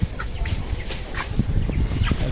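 A flock of broiler chickens, about 21 days old, clucks and chirps continuously up close, many birds calling at once over a steady murmur.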